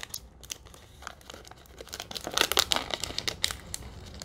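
Paper cupcake liner being folded and creased into a junk-journal envelope, with close crinkling and rustling that builds into denser crackling bursts partway through.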